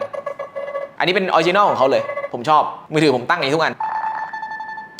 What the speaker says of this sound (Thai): นี่เสียงแจ้งเตือน